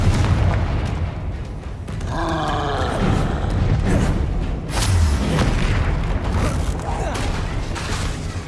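Confringo spell blasts in the video game Hogwarts Legacy boom repeatedly through a dense, roaring combat din, with a voice speaking over the loud, continuous fight.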